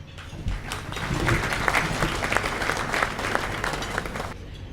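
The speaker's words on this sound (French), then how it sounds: "Sous vos applaudissements, s'il vous plaît." Audience applause at a United Nations system ceremony in Benin, a burst of steady clapping from a crowd that builds, holds for about four seconds, then stops abruptly.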